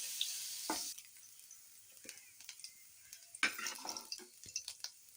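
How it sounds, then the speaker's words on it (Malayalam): Carrots fry in hot oil, giving a steady sizzle with scattered crackles and pops, plus a few utensil clinks against the pan. "ക്യാരറ്റും വറുത്തെടുക്കണം"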